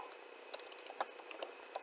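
Quick, light keystrokes on a computer keyboard, an irregular run of taps and clicks at close range, quiet and with no talking over them.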